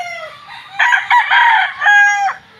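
A Raptor sweater gamefowl rooster crows close by, a loud, strained cock-a-doodle-doo in one long call with a brief break partway through, heard alone with no talking.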